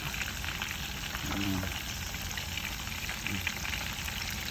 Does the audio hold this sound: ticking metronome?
no